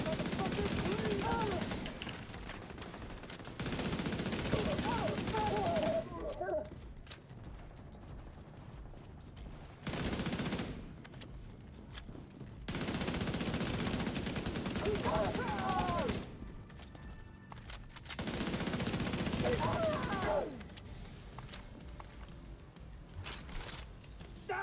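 Video game gunfire comes in long sustained bursts of rattling shots alternating with quieter gaps, dense and loud, with occasional talk underneath.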